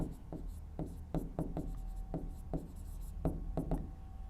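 Handwriting on paper, pen strokes forming words for a math worked solution, in short scratchy bursts with brief pauses, close and clear over a quiet background.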